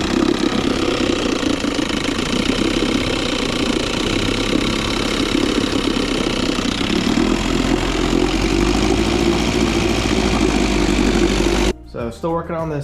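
Evinrude Angler outboard motor idling unevenly after carburetor cleaning, a loud continuous rough drone that shifts down partway through, then cuts to quieter bursts at the end.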